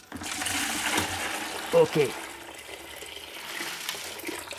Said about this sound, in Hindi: इसके अंदर का जो पानी है ये मैं इधर खाली कर लेता हूँ बाल्टी के अंदर ही।